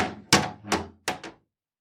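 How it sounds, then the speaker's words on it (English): A kitchen door being closed indoors, heard as four heavy, close wooden thuds in an uneven rhythm: two spaced apart, then a quick pair, followed by silence with no voices. "You close the kitchen door and I'll keep an eye on it."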